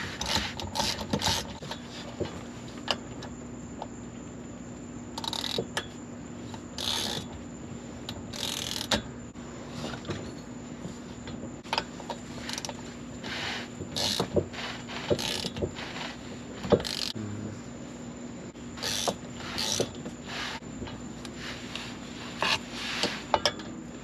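Driveshaft bolts on an S550 Mustang are tightened with a ratchet, giving repeated rapid clicking bursts and metallic clinks, close by, over a steady hum.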